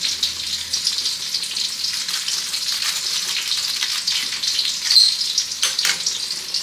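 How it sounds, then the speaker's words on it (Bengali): Taro leaves (kochu shak) fry in a home kitchen pan, giving a steady close hiss and crackle of oil, with a few brief stirring scrapes and bursts partway through and no talking. "বন্ধুরা এই যে কচু শাক ভাজা হয়ে গেছে।"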